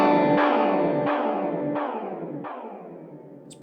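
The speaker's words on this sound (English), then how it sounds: "as well as modulating the reverb tail, we can modulate the pitch. Now, this is going to give us a more extreme sound." A Strymon Nightsky reverb pedal, its reverb pitch-modulated, washes out a series of four struck guitar chords, each swelling into a shimmering, warbling tail that fades under the next, with no voice.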